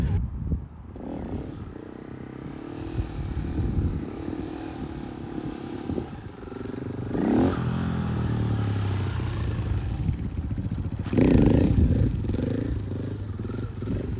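A KTM supermoto motorcycle, either a 450 EXC-F or a 390 SMC R, is ridden hard during a test, its engine revving up and down near a camera with clattering road noise.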